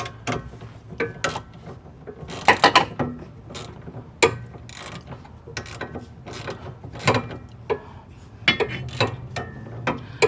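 A wrench works a sway bar link bolt loose on an 04-08 Pontiac Grand Prix, giving irregular metallic clicks and ratcheting knocks with scattered louder clanks over a low rumbling background.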